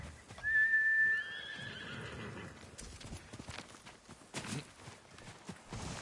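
A horse in the video game Ghost of Tsushima gives a loud, rising whinny near the start, then its hooves clip-clop in a steady walk while faint ambient game sounds continue.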